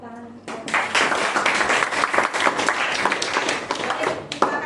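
A classroom of students breaks into dense, lively clapping that starts a moment in and carries on steadily to the end, loud and close, with some voices mixed in.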